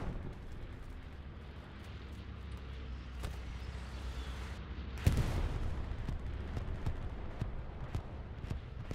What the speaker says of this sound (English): Enemy bombing run.